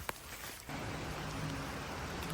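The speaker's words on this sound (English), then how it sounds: "It's lightly drizzling." Light drizzle falling on a hiking trail along the Appalachian Trail, a steady soft broadband hiss of fine rain that thickens after a brief opening tap, continuous and close, with no talking.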